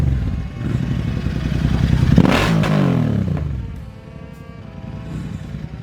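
Modified Royal Enfield Interceptor 650 motorcycle engine revving loudly as it passes close by during a street ride, rising to a sharp peak then fading, with other engine noise around.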